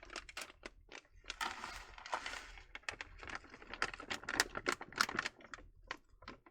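A plastic bag of Coyote Creek gold paydirt is torn and opened up close, giving loud crinkling and crackling bursts with sharp rustles and snaps throughout, no voices.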